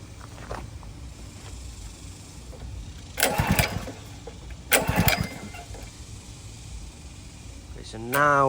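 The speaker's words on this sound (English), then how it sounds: "let's go ahead and try to fire up the engine" Honda GX200 engine on a DeWALT pressure washer, not starting: two short bursts of cranking roar a couple of seconds apart, then a brief rising pull near the end, all fairly close with no running engine catching.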